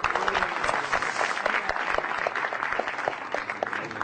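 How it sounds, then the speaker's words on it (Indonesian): An audience at a televised stand-up comedy show applauds steadily, a dense wash of clapping that holds at even strength throughout. "Tepuk tangan semua dong"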